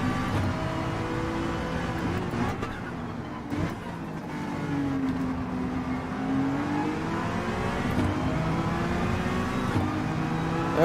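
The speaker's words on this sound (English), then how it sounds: "I'm gonna rev the beans out of this thing" A race car engine in Gran Turismo 7 revving, at the Spa circuit, its pitch sweeping down and back up in a smooth arc, a steady, moderately loud drone throughout.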